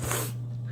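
A woman sneezes once, a short breathy burst that quickly fades into a steady low hum.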